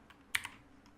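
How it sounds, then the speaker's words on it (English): Code being typed on a computer keyboard, a couple of quiet clicky keystrokes in quick succession and one faint later tap over low background hum. "let's go back in here and start typing the brains of the robot"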